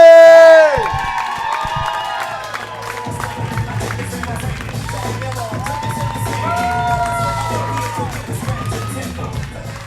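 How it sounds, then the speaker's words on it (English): Comedy club audience at Punchline Philly breaks into loud, sustained cheering, whoops and applause for a comedian taking the stage, with shouted voices rising over the crowd noise throughout. "A big hand for the very talented Danny J."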